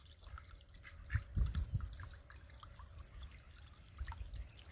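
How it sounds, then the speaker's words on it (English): Small garden water fountain running outdoors, a quiet trickle with soft drips and splashes that stays faint and steady, with a few slightly louder splashes partway through. "I love the sound of running water in my garden."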